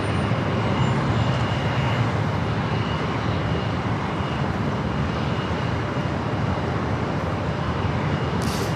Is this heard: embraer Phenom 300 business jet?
yes